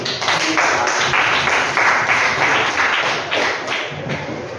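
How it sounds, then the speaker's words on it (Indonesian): A classroom of students claps together, a dense, close patter of hand claps that holds steady and then thins slightly toward the end. "Kita berikan tepuk tangan dulu."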